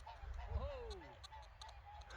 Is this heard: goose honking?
yes